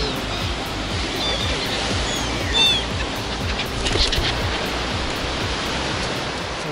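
Baltic Sea waves washing onto the shore, a steady broadband wash of surf that stays fairly even throughout, with brief faint chirps of birds above it and no talking.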